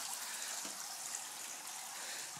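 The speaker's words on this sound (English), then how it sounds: "Now I have the water going full blast just from the hose." Water from a garden hose running full blast into an aquaponics setup, a steady rushing hiss with no breaks.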